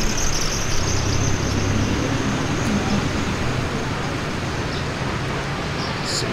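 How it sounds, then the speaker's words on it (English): Steady road traffic flows through Da Nang, Vietnam, a dense continuous roar of passing vehicles heard close by without pauses, with no clear speech above it. "There's a lot of traffic that comes through here."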